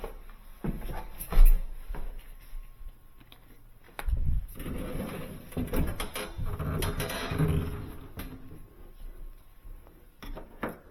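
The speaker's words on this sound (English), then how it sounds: "I can open up the door." A Sub-Zero 736TCI refrigerator door being opened during a hinge replacement, with a low thump and then soft rattling and handling clatter of door parts, fairly close and moderate.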